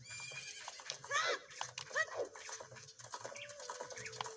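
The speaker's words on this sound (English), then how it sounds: "It's a little horse!" A horse neighs in The Legend of Zelda: Ocarina of Time, two rising whinnies close together with hoof clip-clops and soft game ambience, while a person speaks over it.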